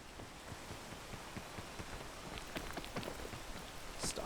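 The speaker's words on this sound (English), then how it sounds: "Stop it with the rain" Rain falling in the video game PEAK, a steady patter of scattered raindrops tapping on a surface at a moderate level, with no voices.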